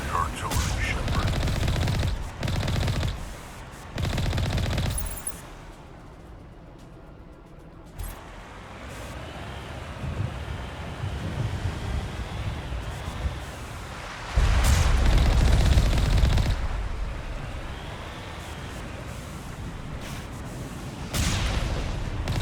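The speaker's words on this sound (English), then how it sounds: "There's the artillery, Shepard" Artillery fire in the video game Mass Effect Legendary Edition, heavy booms and bursts of gunfire rolling in loud waves with quieter gaps between, mixed with game voices and speech.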